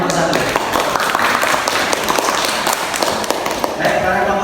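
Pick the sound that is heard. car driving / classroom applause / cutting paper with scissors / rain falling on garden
classroom applause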